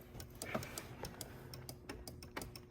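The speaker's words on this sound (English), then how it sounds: "But we can hear them clicking, right, Wes?" A power window switch in a 1993 Chrysler Fifth Avenue door clicks faintly with a series of soft, irregular ticks, quiet and close against a low background hum.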